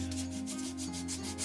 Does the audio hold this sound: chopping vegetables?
no